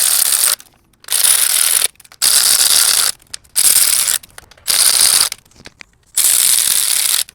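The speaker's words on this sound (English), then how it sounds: "I'm gonna torque these to spec." Ratcheting torque wrench snugging 6 mm oil pan bolts on a BMW E30, heard as several bursts of rapid close clicking separated by short pauses.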